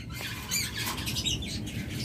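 Pet birds in a bird shop, including an opaline budgerigar pair, give sharp nearby squawks and chirps over a low background hum.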